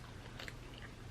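A single close bite into thick, chewy cured turkey bacon gives a short soft crunch over quiet room noise, with no talking.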